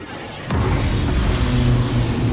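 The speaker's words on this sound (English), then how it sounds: "Why am I hearing explosions already?" Explosions sound during a space fleet battle in the video game Battlefleet Gothic Armada II: a sharp boom at half a second, followed by a sustained rumbling barrage with low tonal hum, loud and continuous.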